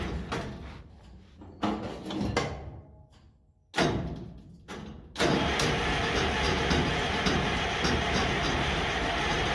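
An old International 93 combine engine cranks in several stop-start bursts of starter grinding, then catches and settles into a loud, steady running rumble for the remaining seconds.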